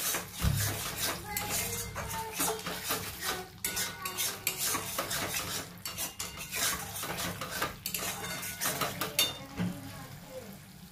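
A spice masala with a little sugar is stirred in a pan for a katla fish curry, with a metal utensil repeatedly scraping and clinking against the pan in quick, uneven strokes over a faint sizzle.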